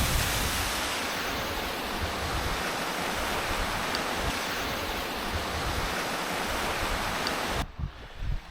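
Waterfalls at Hen Hole in the Northumberland hills, a loud, steady broadband rush of falling water close by, with wind buffeting the microphone before it cuts off near the end.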